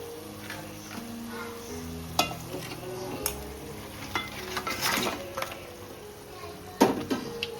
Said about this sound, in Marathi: आता आपण चिंबर ॲड करू